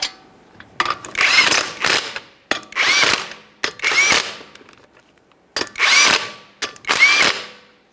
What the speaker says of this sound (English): Start on all 5 of our 19mm lug nuts.